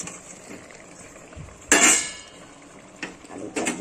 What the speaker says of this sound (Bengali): এবার আমি এর মধ্যে আলুটা দিয়ে দেবো।